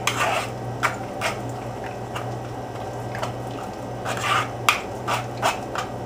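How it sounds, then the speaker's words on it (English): A soup spoon presses leftover nut pulp against a strainer to squeeze out the last of the nut milk, giving soft scraping and clinking taps at an irregular pace over a low steady hum. "You can actually use a spoon, a soup spoon, and press it against the strainer to get what's left of the liquids out of the nuts"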